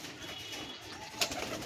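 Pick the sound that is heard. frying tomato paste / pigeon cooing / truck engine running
pigeon cooing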